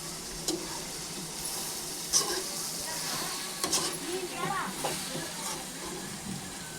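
Coriander powder stirred into chicken curry frying in a pan, a steady soft sizzle broken by scraping and clicking stirring strokes, with someone talking over it.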